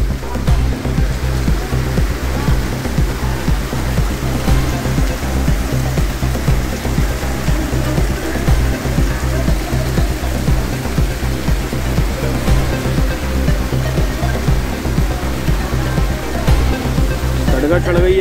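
Floodwater rushes over a road in Hyderabad during heavy rain, a loud, constant roar of churning water with deep low rumble that holds steady throughout.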